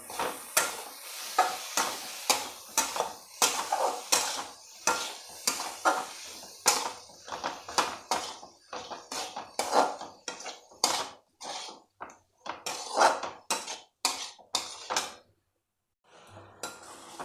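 Masala with coriander leaves being stir-roasted in a kadai: repeated sharp metallic scrapes and clacks of a spatula against the pan in an irregular rhythm, close and fairly loud, trailing off into quiet near the end.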